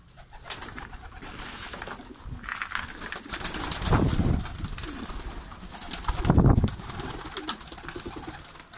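Fancy breeding pigeons in a loft in Bursa, Turkey, cooing in repeated low throaty bursts, several birds close by, with a louder coo swell midway and faint wing rustles.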